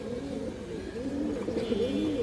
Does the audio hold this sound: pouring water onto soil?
no